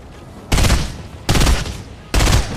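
Three loud bursts of rapid automatic gunfire in Fortnite, each lasting about half a second to a second and separated by short quiet gaps, close and punchy.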